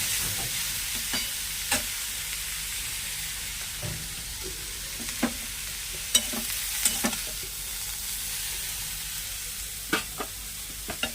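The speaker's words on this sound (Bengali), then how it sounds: "এভাবে শাকটা ভাজলাম" Pumpkin stem greens stir-frying in a pan: a continuous soft sizzle broken by repeated scraping stirs of a utensil, close and moderately quiet, with no voices.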